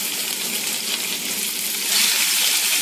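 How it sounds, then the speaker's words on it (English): Pork chops browning in a frying pan, a steady close hissing sizzle that grows a little louder toward the end, heard alone without talk. "I'm going to go ahead and flip those and brown the other side"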